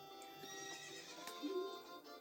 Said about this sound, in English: You can actually ride these horses like this one, but they're not as good as Epona.